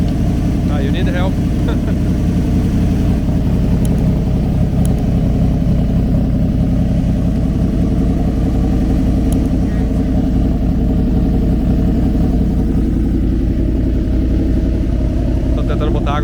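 Race car engine with carburetor trouble idles roughly and continuously at close range, with a steady low rumble under people talking nearby.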